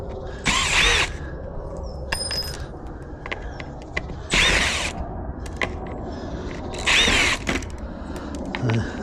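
Screws are worked out of the bottom of a uPVC door with a power driver in short loud whirring bursts, three main runs separated by quieter ratcheting and clicking handling noise, close up with no talk.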